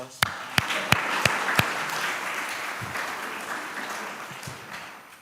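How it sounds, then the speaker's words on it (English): A few sharp individual claps open, then a graduation audience breaks into broad applause for the IT director, steady and moderately loud before gradually easing off. "And Mr. K, round of applause."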